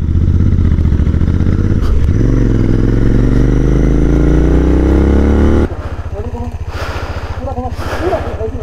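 Hero XPulse 200 motorcycle ridden on an icy mountain road in Spiti: a loud, close engine drone that rises in pitch as it accelerates, then shifts to a lower rumbling idle with some clatter and muffled voices near the end.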